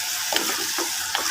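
Spicy pork ribs caldereta sizzle and fry in a pan while being stirred, a constant hiss broken by a few brisk scraping strokes of the spoon, close and alone without talk.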